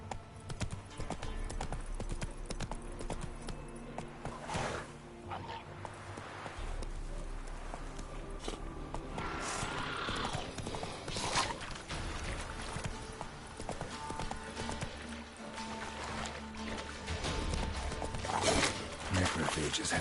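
Hoofbeats of the horse Roach in The Witcher 3, a steady clip-clop of trotting hooves under game music and ambience, with someone talking over it.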